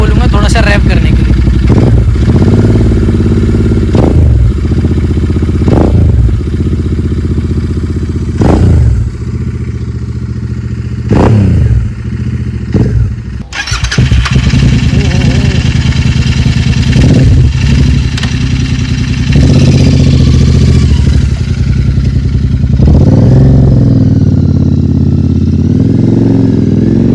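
A Royal Enfield Interceptor 650 BS6 motorcycle engine idles close by, then is repeatedly revved in sharp bursts before settling into a steady rough idle, loud, with someone speaking over it.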